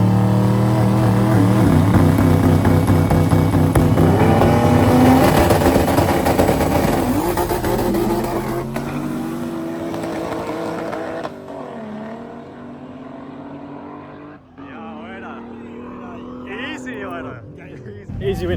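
A BMW E30 screams past at an illegal street racing event in Stockholm, its engine loud and revving hard through rising and falling pitch before fading into the distance, with crowd chatter and talk underneath.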